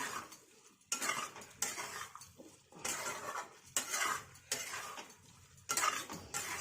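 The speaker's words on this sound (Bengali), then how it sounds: "এটাকে একটু নাড়াচাড়া করবো" Malabar spinach (pui shak) ghonto being stirred in a pan, with repeated scraping and clinking of a utensil against metal in irregular bursts, close and moderately loud, with no talking.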